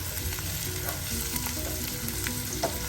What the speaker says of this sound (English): The onions are cooking, and you can see the garlic has started mixing up with the onion